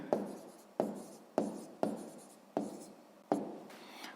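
A maths answer is written out in a sixth-grade exercise: six crisp, scratchy strokes follow one another at a steady pace of roughly one every two-thirds of a second, close and quiet, with no voices.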